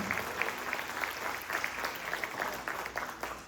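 A church congregation applauding during a service, a close, dense patter of many hands with slight pulsing swells, continuous throughout.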